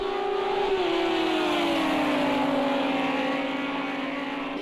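GT3 race cars in a sim racing game, one engine note holding high and then sliding lower as the car shifts or eases off, with a second car's drone close behind, loud and continuous and free of any talking.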